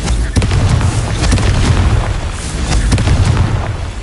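The Confringo fire spell in a Harry Potter video game sets off a loud rumbling explosion, with repeated booming bursts over a few seconds and no voices.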